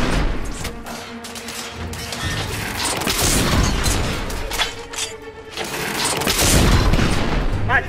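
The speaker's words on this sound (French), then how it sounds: "Les tirs nourris d'artillerie sont en cours." Heavy artillery fire and gunshots in The Order: 1886 video game, a continuous loud barrage of booms, bursts and crashes through a siege on a bridge.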